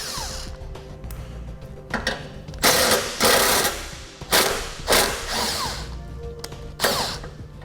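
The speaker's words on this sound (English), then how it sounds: "we'll use the 13mm socket to remove those on each side" Ratchet with a 13mm socket loosening bumper fasteners while fitting a base plate kit to a 2015 GMC Terrain, giving several close bursts of quick clicking strokes between short pauses.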